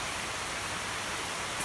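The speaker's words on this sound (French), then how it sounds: "Et ça y est, la pluie reprend de plus belle." Heavy rain pours down outside during a flood, a dense, loud, unbroken roar of water that carries on alone for the whole moment.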